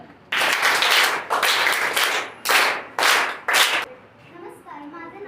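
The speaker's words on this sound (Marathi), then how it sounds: "तिचे टाळ्या वाजवून स्वागत करा." An audience at a school event for the Gandhi and Lal Bahadur Shastri birth anniversaries claps to welcome a student speaker, heard as several loud bursts of applause separated by short pauses, fading to quiet at the end.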